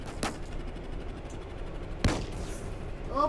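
Two sharp tank cannon shots from the Roblox game Armored Patrol crack out, one early and one about two seconds later, over low engine rumble.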